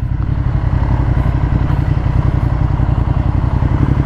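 A 2015 Ducati Monster 1200S with Öhlins suspension rumbles steadily while being ridden, its low pulsing engine note loud and continuous with a faint clatter, no voices.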